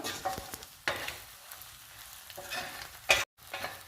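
Egg pieces fry in a pan for spicy Palnadu-style egg karam made with Guntur chili powder, a steady sizzle broken by a few louder stirring scrapes near the start and end, with no talk.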